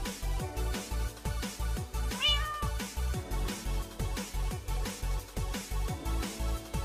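A cat meows in the Minecraft video game, one clear mew rising over a steady, rhythmic music beat that plays throughout.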